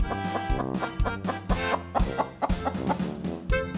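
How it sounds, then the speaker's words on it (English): A chicken clucks in short, scattered bursts at a moderate level, mixed into cheerful children's music with a steady pulsing beat. "This is a chicken,"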